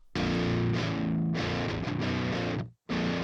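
A high-gain electric guitar played through the Mercuriall 6160III amp model chugs out loud, saturated distorted riffs, sustained chords with a brief cut of silence before the next hit.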